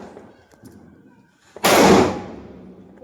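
A single Diwali firecracker bursts outdoors at home, one sharp loud crack with a short noisy tail fading quickly, preceded by faint background sounds.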